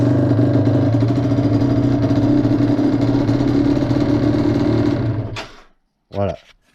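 A small engine runs with the choke set, giving a loud, steady buzzing idle for about five seconds before cutting out, then a brief burst of speech.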